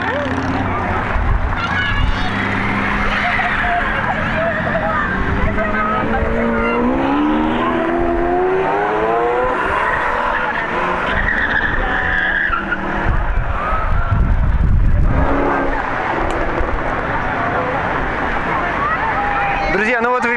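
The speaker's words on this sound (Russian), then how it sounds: "колонна проехала, все машины уехали туда" A convoy of cars passing at a Dubai car show, with squealing tires, engines revving and a honk mixed into a loud, busy roar, while people talk over the traffic.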